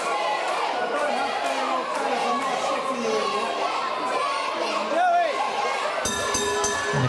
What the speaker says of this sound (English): the crowd there chanting chicken at Dale Preston and Joey